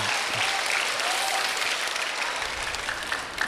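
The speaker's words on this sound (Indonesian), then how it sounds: "Tepuk tangan buat Roy aja nih." Steady applause from a university campus audience at an event with Anies Baswedan at Universitas Kuningan, dense clapping filling the room evenly from start to finish, with faint voices beneath.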